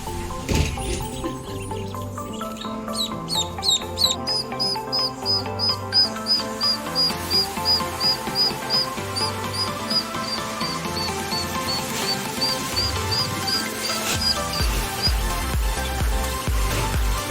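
Newly hatched ducklings peep in rapid, regular high-pitched chirps while playing in water, with light splashes and shuffling underneath and the chirping steady throughout.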